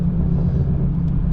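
A BMW M4 pulls hard in second gear, its engine holding a loud, steady low rumble close by for the whole short stretch with no break.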